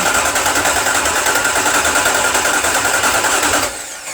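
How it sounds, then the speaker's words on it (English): A Ford Mustang engine cranks on the starter with its fuel pump relay disconnected, giving a loud, even, rapidly pulsing whir that holds steady for several seconds and then drops off when the starter is released. "That's a nice crank. It was a nice even crank."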